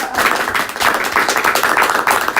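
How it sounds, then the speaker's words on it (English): A small crowd claps steadily, close and fairly loud, a brief burst of applause with no voices. "You can give her a round of applause."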